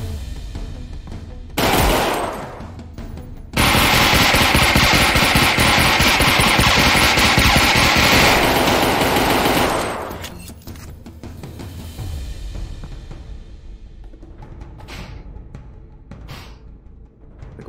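Loud, sustained automatic gunfire from a virtual-reality shooter, Half-Life: Alyx, erupting in a short burst and then a long continuous volley before fading into quieter background game noise.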